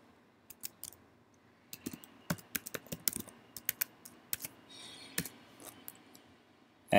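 Quick bursts of keystrokes on a computer keyboard as a password is typed in, irregular clicks with short pauses, close and fairly quiet, no talking.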